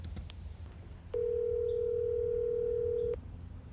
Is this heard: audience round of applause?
no